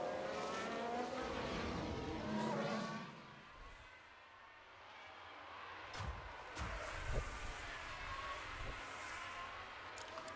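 A Ferrari Formula 1 car in a racing video game, with a loud, high engine whine that fades after a few seconds, then a rougher drone marked by a few sharp thumps and bangs.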